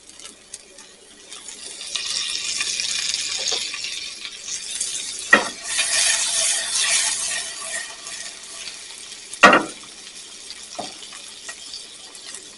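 Food frying in butter in a hot pan, a soft continuous sizzle that swells and fades, with two sharp utensil knocks standing out and no talking.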